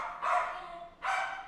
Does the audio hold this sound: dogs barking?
yes